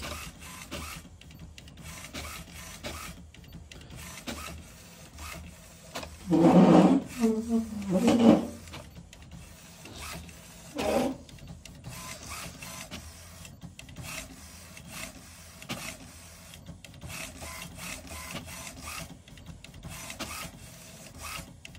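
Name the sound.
HP Smart Tank 500 printer printing alignment page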